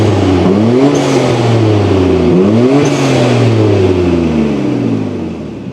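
A Nissan Skyline GT-R R32 engine pulls hard on a night drive, its loud, close drone climbing in pitch, dropping at two gear changes and rising again before easing off near the end.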